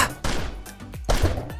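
Gunshots in a 3D aim trainer game: a handful of sharp, close shots fire in an irregular rhythm, each with a short booming tail, fairly loud and with no talk.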